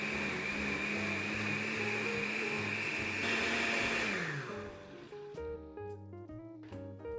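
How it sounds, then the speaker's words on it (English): A blender whirs steadily as it pulps handfuls of wet paper with water, a loud continuous motor drone that winds down partway through, leaving a lower, uneven whirring. "add a few handfuls of the wet paper to a blender with some"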